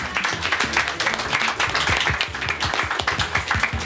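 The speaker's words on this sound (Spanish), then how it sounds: "Un aplauso." Audience applause at a solidarity gathering supporting colleagues after an earthquake, a dense steady wash of clapping with some voices mixed in, sustained throughout.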